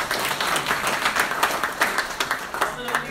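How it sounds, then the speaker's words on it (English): Event audience gives a big round of applause welcoming a retired Marine Corps major general, steady close clapping with a voice speaking over it. "So give him a big round of applause."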